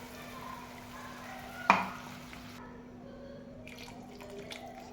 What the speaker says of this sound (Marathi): आपण यामध्ये पाणी टाकून घेऊ